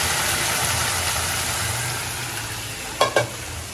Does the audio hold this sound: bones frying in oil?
yes